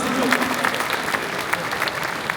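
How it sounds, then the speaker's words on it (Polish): A crowd applauds at a charity auction held during a family festival for racing pigeon breeders. Steady, loud clapping fills the whole moment with a faint murmur of voices beneath it. "Wielkie brawa, proszę Państwa."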